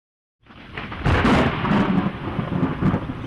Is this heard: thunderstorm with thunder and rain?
yes